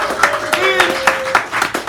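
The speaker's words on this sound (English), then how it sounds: "Give him a round of applause." At a poetry hour in a San Francisco cafe, a small audience claps for an award, with irregular hand claps under a speaking voice and a brief whistle.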